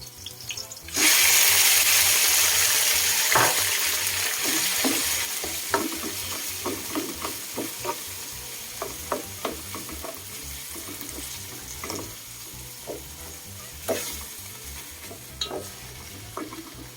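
Boiled dory fish meat being broken up in a pan, opening with a rush of running water that fades, followed by repeated scraping and tapping strokes of a utensil at an uneven rhythm.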